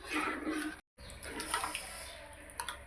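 About a glass of water pours into a pressure cooker holding lentils, a close rushing splash with gurgles that stops for a moment and resumes, fairly soft.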